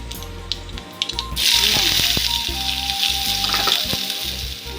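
Mustard seeds and fennel drop into hot oil and set off a sudden bright, loud sizzle that keeps going with crackles and quick spatters, close by, over a low rhythmic background hum.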